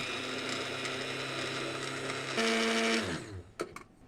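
A kitchen blender whirs steadily as it purées potato and sweet almond cream, holding a constant motor tone before shifting pitch and spinning down to a stop, followed by a few light clunks.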